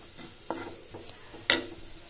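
Spiced masala rice frying in a pan with chilli, coriander and garam masala powder, a soft sizzle broken by two clear scrapes of a spoon stirring against the pan, close up with no talking.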